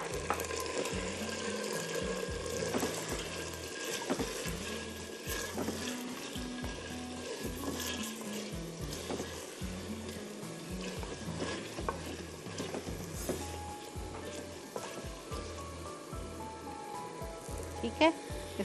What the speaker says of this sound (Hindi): इसको हम अच्छी तरह 5-7 मिनट फ्राई करते हैं ताकि हमारी चिकन पिंक से वाइटिश हो जाए।